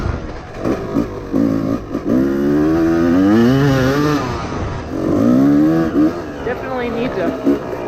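A Yamaha YZ250 two-stroke motocross bike revs up and down in rising and falling sweeps, close and loud, with a brief pause between bursts.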